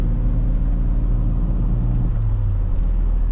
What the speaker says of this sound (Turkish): 4000 devri göstere göstere rahatlıkla hızlandırıyorum arabayı